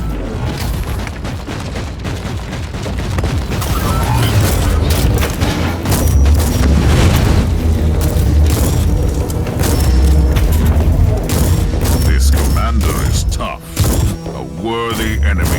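Grenade blast and heavy combat in the action RPG Warhammer 40,000: Inquisitor - Martyr, loud booms and thuds layered over constant battle noise and game music, with voices heard in the mix.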